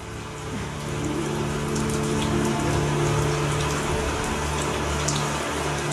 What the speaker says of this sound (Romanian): Doamna Georgia, ploua!